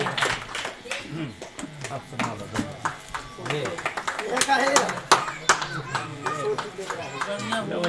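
Devotees clapping in rhythm during a village satsang kirtan, steady hand claps mixed with voices and loud devotional singing, fairly close and continuous.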